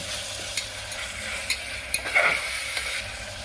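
Ginger garlic paste fries in a pan for Bihari green peas godla, giving a steady close sizzle broken by a few light scrapes and clinks of stirring, with no talking.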